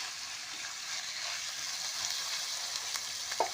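Chicken pieces frying in a pan on a low to medium flame, a soft even hiss of sizzling oil with a couple of faint clicks near the end.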